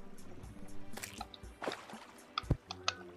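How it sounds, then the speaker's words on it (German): Water drips and squishes out in the game Terraria, a few scattered, irregular wet plops and splashes, quiet and close. "Na, ich will das Wasser rauslassen."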